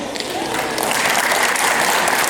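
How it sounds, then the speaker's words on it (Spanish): A wedding crowd gives a dense, steady round of applause that stays loud and unbroken throughout. "Fuerte, fuerte las palmas"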